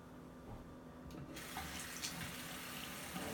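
A tap runs steadily into a sink during hair washing at home, a close, continuous splashing stream that briefly changes tone as the flow is shifted.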